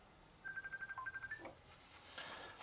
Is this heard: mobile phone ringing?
yes